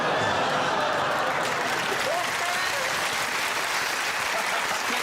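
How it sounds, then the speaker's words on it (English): A studio audience on a television comedy panel show lets out a mixed groan and round of applause, the sustained crowd noise filling the whole stretch with scattered laughter and chatter underneath. "That's a classic mixture of groan and applause there"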